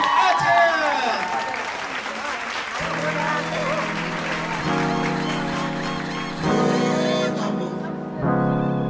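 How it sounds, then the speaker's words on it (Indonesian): An audience applauds at an event, with a burst of broadband clapping early on, then music with sung or spoken voices carrying over fainter crowd noise. "Tepuk tangan paling meriah untuk Mlalelo and Aceh."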